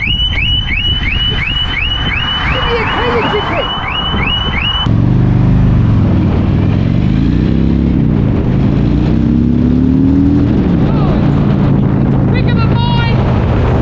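A Harley-Davidson motorcycle the owner thinks isn't running right, taken for a quick test ride around Tasmania. Chirping alarm-like tones give way to a steady low engine rumble that climbs and falls in pitch under wind noise and occasional voices.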